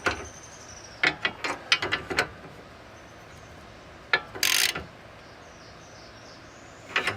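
Clamp tool ratcheting tight on a 2013 Ford Edge tie rod, a few short bursts of close mechanical clicks separated by quiet pauses.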